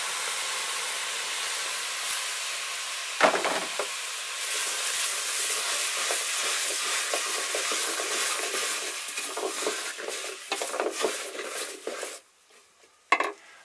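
Tomatoes tip into a hot pan for vegetarian chili and sizzle steadily, with stirring scrapes and utensil clinks close by, no voices, before the frying drops away near the end and a last clatter sounds.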